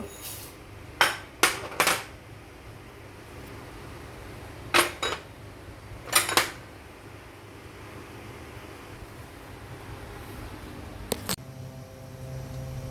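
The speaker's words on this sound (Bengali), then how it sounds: "প্রথমে আমি ডালগুলোকে একত্রে করে সব ধুয়ে নিব" Lentils for bhuna khichuri are washed together in a metal pot, heard as scattered clanks and rattles of the vessel in bursts over a soft, steady background of running or swishing water, close by.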